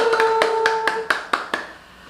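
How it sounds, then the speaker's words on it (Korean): Several sharp claps, one at a time, for a guest welcomed onto a Korean real estate interview show, over a steady tone that drops away about halfway through. "박수!"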